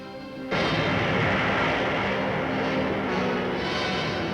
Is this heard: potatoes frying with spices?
no